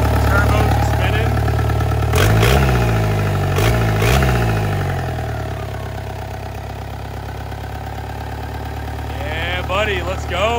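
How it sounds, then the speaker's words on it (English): A Volkswagen TDI diesel engine swapped into a car idles with a steady low rumble while its turbo spins, close and loud, with louder revving bursts early on and people talking over it. "All right, idle is set. Turbo's spinning."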